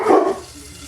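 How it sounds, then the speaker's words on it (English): Dogs bark in a short burst nearby in a home kitchen, one or two loud woofs fading quickly into quiet room sound. "those dogs are barking at me. Don't know what those dogs are barking at"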